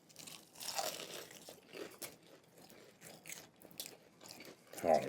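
Crisp crunching bites into a seasoned, crunchy-skinned whole chicken, several close, loud crackles spread unevenly with chewing between them, plus a sharp burst near the end.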